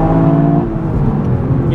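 A Toyota Yaris GR engine pulls hard in second gear around 4,000 rpm, a loud, steady rising drone with layered harmonics that runs through the whole short stretch without talk.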